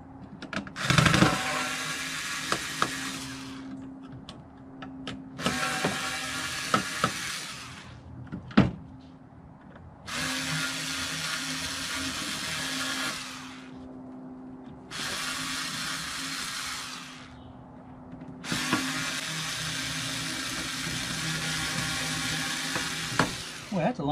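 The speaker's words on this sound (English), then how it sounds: "A little Black & Decker is always good for these." A Black & Decker drill whirs in several bursts of a few seconds each, backing screws out of a ThinkCentre computer case, with brief clicks and rattles between the runs.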